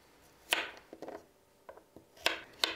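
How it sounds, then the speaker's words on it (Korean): Knife slicing zucchini on a cutting board: several sharp, irregular taps and cuts, close and fairly quiet, with no talk. "애호박 자투리 남기고 썰어주세요."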